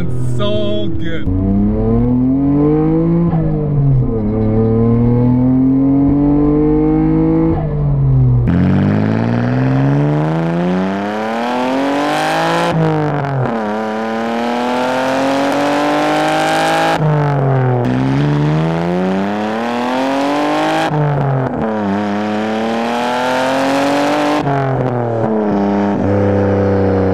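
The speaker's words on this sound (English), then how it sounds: "This car sounds so good." A Nissan Skyline GT-R R32 engine, misfiring, revs up and down in repeated rising and falling sweeps, loud and close, with gear changes between surges.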